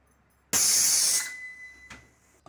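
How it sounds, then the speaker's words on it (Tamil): A pressure cooker's weight whistle releasing steam while biryani cooks, a loud sudden hiss that holds steady for under a second, then tapers into a thinner whistling tone and fades, followed by a short clink. "ஒரு வெயிட் போட்டுக்கிறேன், ஒரு சவுண்ட் வரட்டும்."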